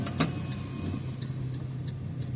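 A driving-school car pulling away in first gear gives a low, steady engine rumble heard from inside the cabin. It stays fairly quiet and even throughout, with a faint click near the start.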